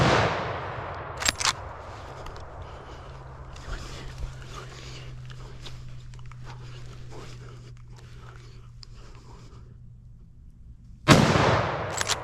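Rifle shots during a driven roe deer hunt: a sharp loud crack near the start and another sudden blast at the end, with quieter rustling, distant sounds and a steady low hum between.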